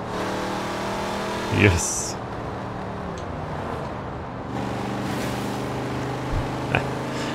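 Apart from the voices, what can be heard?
standard car engine revving in video game Forza Horizon 4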